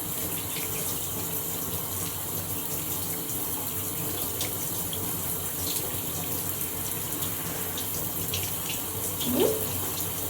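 A shower runs in a steady, even hiss of falling water while a pet parrot is bathed nearby, constant and close with no talking.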